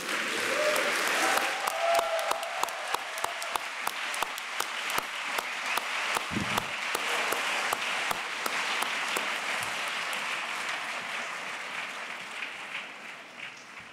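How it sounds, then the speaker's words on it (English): Audience at a debate on Western parenting bursts into sustained applause with scattered whoops and cheers, the dense clapping swelling early and then slowly thinning out over about fourteen seconds. "from the whoops of applause that greeted that last contribution"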